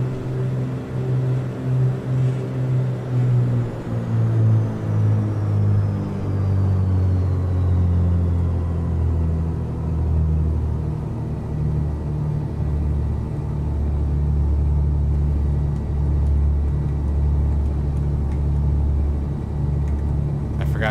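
Twin piston engines of a Duke B60 in Microsoft Flight Simulator held at 1,500 RPM, a steady deep droning rumble with a faint harmonic whine, continuous and loud throughout with no talk.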